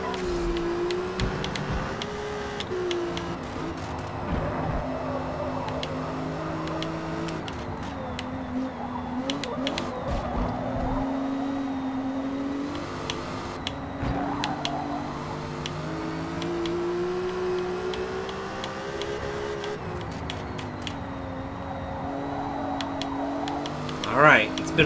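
A video-game race car engine drones through a flying lap, its pitch rising and falling as it shifts and accelerates, loud and continuous throughout, with a voice talking over it at times.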